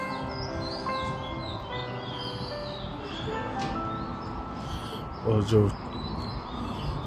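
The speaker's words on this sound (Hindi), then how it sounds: "चिड़ियों का चहचहाना, परिंदों की आवाज़ें, उनका भी एक अपना ही मजा है।" Birds chirp and call in a city at morning, with scattered high tweets spread through the clip over a low urban hum, while a person speaks briefly and a louder sound rises near the end.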